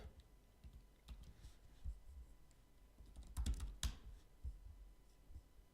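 Quiet computer keyboard typing, a scattering of soft keystrokes and clicks at close range with a brief quicker burst midway, no speech.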